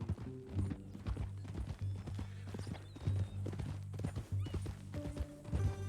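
Horse hooves clip-clop steadily and close by in Red Dead Redemption II, a continuous rhythmic trot with a low hum underneath and faint talk at times.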